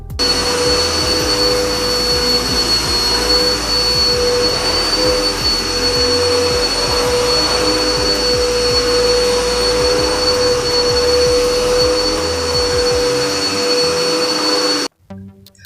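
A freshly cleaned vacuum cleaner runs close by with a loud, steady whining roar and a constant high tone, then cuts off abruptly at the end.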